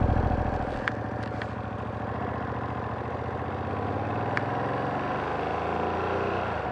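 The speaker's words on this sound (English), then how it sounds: "So it's a really nice engine sound." A Ducati Streetfighter V2S motorcycle's two-cylinder engine runs steadily during a first ride, a low throbbing pulse that rises slightly in pitch as it pulls away, close and continuous with wind noise.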